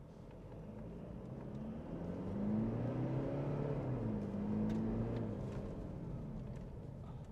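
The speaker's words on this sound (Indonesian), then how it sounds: "selanjutnya kita bakalan lewat jalan lurus, kita mau kick down." Toyota Fortuner 4x4 2.8 GR-S 2024 diesel kicking down and accelerating hard along a straight road, a steady low engine drone rising and holding through the middle, heard from inside the cabin with no talk.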